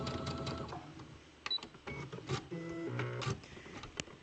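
Sewing machine backstitching the end of a seam on a T-shirt dress, a short burst of close mechanical whirring and clicking, fairly quiet with no voice.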